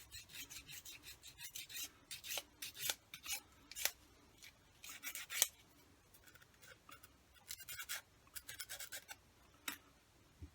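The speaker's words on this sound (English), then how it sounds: "I think that just needs a little bit of sanding off there." Repeated rasping strokes of sandpaper against a small part of a Minimum RC J87 Stuka model, bursts of quick scratchy rubbing separated by short pauses, close and fairly quiet, with no talking.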